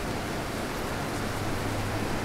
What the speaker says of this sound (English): It's raining in here in Mordor